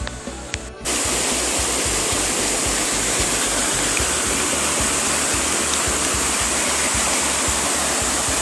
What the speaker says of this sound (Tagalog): Itong Dananak Falls dito sa sa Tanay Rizal.